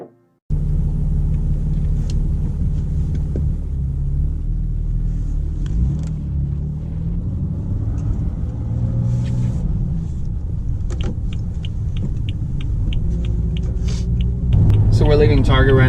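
BMW M3 driving on the road after leaving a Target parking lot, a steady low engine and road rumble inside the cabin that holds for the whole stretch, with music playing over it and a brief louder swell near the end.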